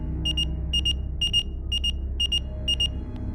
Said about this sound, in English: my brother's beeper started beeping